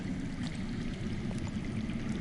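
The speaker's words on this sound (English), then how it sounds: "That's water. I hear water. From underground." Underground running water in a Game of Thrones video game scene, a low, steady rushing and gurgling flow that sounds muffled and distant, with no talking over it.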